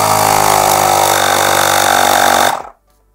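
A compact Aspiring Storm 3 ST.90W air compressor runs with a loud, steady motor drone and buzzing hum close by, then cuts off abruptly near the end, leaving silence.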